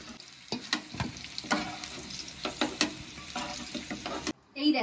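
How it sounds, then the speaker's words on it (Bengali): Potatoes fry in oil in a pan: a close sizzle broken by sharp stirring scrapes and clatters, with a louder, brighter burst of hissing right at the end. "আলুটা খুব ভালো করে ভেজে নিয়েছি"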